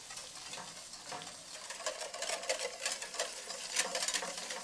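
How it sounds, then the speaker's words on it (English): Butter being stirred into melted sugar in a pan for butterscotch, a steady scraping stir with a soft sizzle running throughout, close and fairly even in loudness with no talking. "simply stir that butter right on in until it's nice and smooth"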